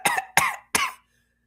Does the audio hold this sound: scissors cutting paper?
no